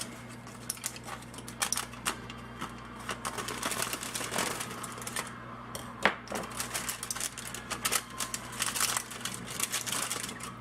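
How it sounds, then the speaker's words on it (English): Knife slicing open aluminum foil wrapped around smoked beef ribs, giving a stream of close crinkling, tearing and crackling over a steady low background hum. "we're going to cut open this top of the foil so they don't continue to cook in the foil"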